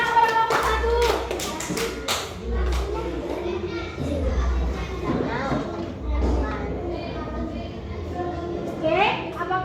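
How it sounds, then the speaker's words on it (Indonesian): Schoolchildren in a classroom clap for the winning group 1 after a Pancasila lesson game played on a Monopoly-style board; a burst of close, uneven hand claps rises over children's chatter and thumps. "Tepuk tangan pada kelompok 1."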